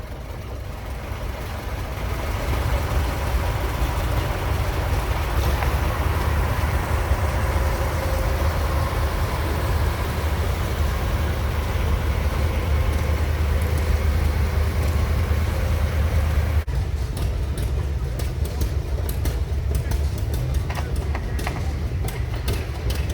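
1974 International Model 1568 tractor in an antique tractor parade, a steady loud diesel engine rumble throughout, nearby and continuous, with outdoor background noise and a sharper clattering texture near the end.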